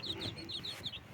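Young chicks on a poultry farm give rapid, repeated high peeps in a quick run, close by and with no one talking.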